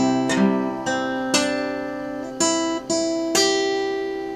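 Acoustic or classical guitar plays a short measure of a slow Naruto melody, about six plucked notes ringing out one after another with sustained, clear tones, played alone.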